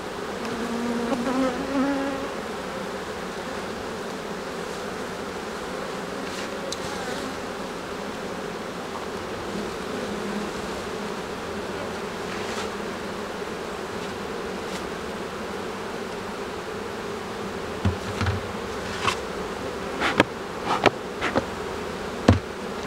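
A strong honeybee colony hums steadily in an open hive during an inspection in Quebec, a dense continuous buzz with a few sharp knocks and clicks near the end.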